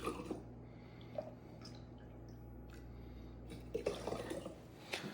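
Stock is ladled into a jar, giving faint close dripping, splashing and a couple of soft clinks in a quiet room, with no talking.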